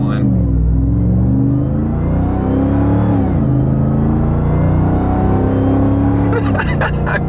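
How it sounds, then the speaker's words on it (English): A 707-horsepower Ram TRX pickup accelerating hard, its supercharger whining over a loud steady engine roar that climbs, dips briefly and climbs again, close up and continuous. "The one thing I do absolutely love about this truck is just the supercharger whine."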